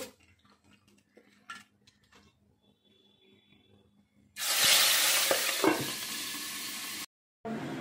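Shingi fish (stinging catfish) dropped into hot oil in a kadai: after a few quiet clinks of utensils, a loud, sudden sizzle bursts up and holds steady as the fish fries, with a brief cut near the end.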